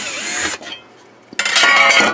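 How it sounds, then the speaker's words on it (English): A power drill bores a hole during a repair on a Radio Shack regulated power supply, with a loud grinding whir that stops for a moment and then resumes at full strength, close to the microphone. "let's continue drilling our hole here"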